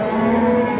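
A cow at a livestock market gives one sustained, loud, close moo that holds a steady tone for the whole moment.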